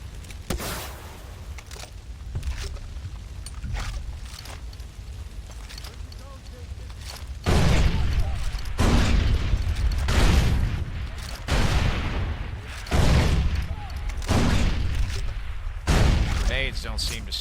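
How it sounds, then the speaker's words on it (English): Gunfire from the Far Cry 3 game as a weapon keeps shooting into the ground: repeated loud bursts and booms in clusters, with someone talking over them. "Let's see if I just fucking keep shooting the ground."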